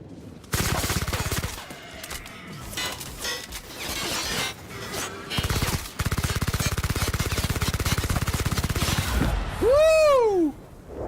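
Rapid automatic turret fire in The Outer Worlds: Spacer's Choice Edition, loud sustained bursts with sharp impacts and shattering crashes, broken by short pauses and ending in a rising sweep of electronic tones.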